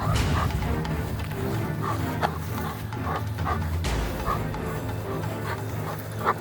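Dogs bark and yip in bursts during a dog training session focused on bite work, close by and mixed with shouting and laughter from several people over a busy, noisy background.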